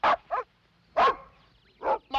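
Dogs bark in sharp separate bursts, several loud close woofs with short gaps between them, in a 1964 crime drama.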